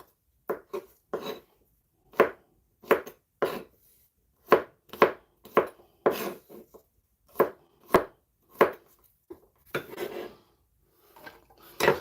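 A knife chops onion and garlic on a board in a home kitchen, a dozen or so sharp, irregular whacks, each one crisp and near, with no talking.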